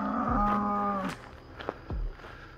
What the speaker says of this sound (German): Da hat es auch wieder Kühe, die möchten auch wieder rein.